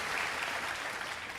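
An audience at a political campaign event claps steadily in a brief, dense burst of applause, fairly faint and even throughout.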